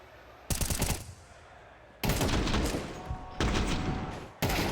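Counter-Strike gunfire at a BLAST major match comes in three sharp rapid-fire bursts separated by short pauses, loud and close, with a final burst cut off at the end.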